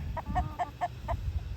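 Quick, close clucks from a chicken, about six short calls in an even rhythm over a low background rumble, with a rooster present.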